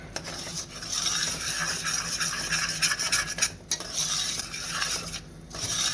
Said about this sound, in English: I'll give that a good stir